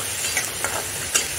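Cooked dal for a simple Marathi varan sautéed in a pan, a brief close hiss of gentle frying with a few soft scrape and stir sounds.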